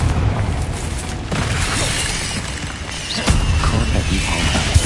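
Fiery Confringo spell blasts in Hogwarts Legacy amid a wizard duel, repeated booming bursts and crackles over continuous roaring battle noise, loud and close.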